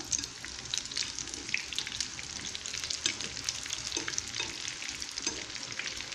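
Small fried cakes sizzling steadily in hot oil, with soft scrapes and clinks as they are flipped in the pan, close and fairly quiet.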